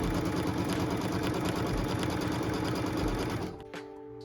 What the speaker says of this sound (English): So what we're stitching now is the tack down line for piece number 2.